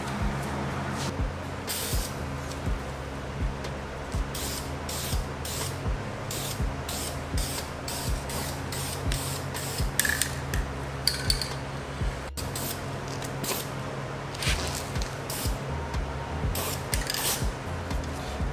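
Primer hisses from an aerosol can onto Type R Brembo brake calipers from an Acura RSX in repeated short bursts. The sprays come close and loud, separated by brief pauses, with faint handling noises between them.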